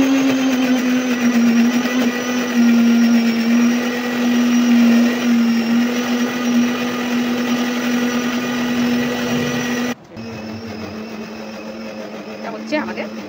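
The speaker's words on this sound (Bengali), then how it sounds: "মিক্সচার মেশিন আছে, মিক্সচার মেশিনে করলেই হয়ে যায়।" An electric mixer grinder whirs loudly and steadily as it grinds kalmegh leaves, with a sharp change in pitch near the end as it slows, while voices talk over the machine.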